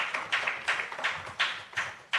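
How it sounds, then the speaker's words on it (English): An audience claps at the CHLP Law & Business Conference 2024, a steady, evenly spaced run of claps that sounds fairly close and sparse rather than a thick roar. "Please keep clapping."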